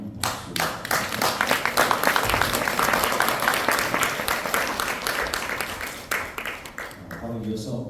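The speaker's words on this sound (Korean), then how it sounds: "총리님께 다시 한번 박수" Audience applause at a formal opening ceremony of an academic forum, a dense burst of many hands clapping that swells quickly, holds steady for several seconds, then thins out near the end.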